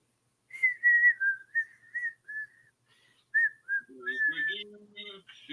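Someone whistles a slow, wavering tune in short phrases, joined near the end by faint background voices.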